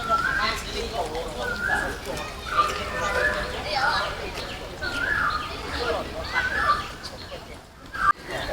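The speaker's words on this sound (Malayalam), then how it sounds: "കിളികളുടെ കളകളാരവം അതൊക്കെ കേൾക്കാൻ പറ്റുന്നുണ്ട്" Birdsong rises repeatedly around a tropical botanical garden, clear chirping calls recurring every second or so over a busy background of murmuring visitors and voices.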